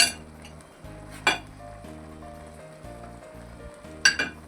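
Palak gosht, a spinach and meat curry, is stirred in a pan: a spoon scrapes and clinks against the metal several times over a continuous low sizzle and hum, with sharper clatters at intervals.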